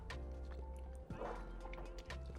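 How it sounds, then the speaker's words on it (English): A dog barks a few times in the background of a home kitchen, short yips over a steady low hum, fairly faint with a brief louder burst midway. "Sorry if you hear my dog crashing out in the background."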